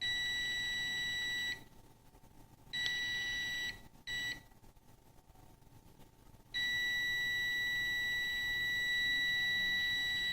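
A multimeter continuity tester checks an oil pressure switch, giving a loud, steady high-pitched beep that cuts out twice for a second or two and then resumes.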